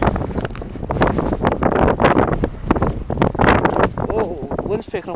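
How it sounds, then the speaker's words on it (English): Strong gusting wind buffets the microphone outdoors in Snowdonia, a loud, steady roar with rumbling surges and flutter that swamps the whole stretch. "wind's picking up a bit"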